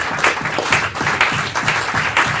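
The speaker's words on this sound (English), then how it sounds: "let's give a round of applause here to our" A full audience claps for panelists and singers at a folk music gathering's plenary session, a dense, steady roar of applause with no voices on top.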